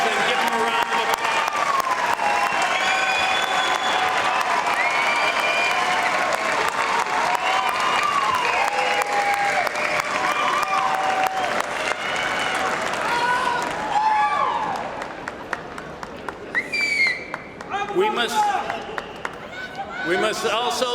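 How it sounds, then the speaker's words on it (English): Graduates at the University of Michigan-Dearborn commencement ceremony give a loud, sustained round of applause with cheering to their families and friends. It thins after about fourteen seconds into scattered claps and crowd murmur. "Graduates, turn around and find your family and friends and give them a round of applause."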